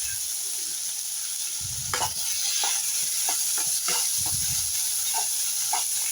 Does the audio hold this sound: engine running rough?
no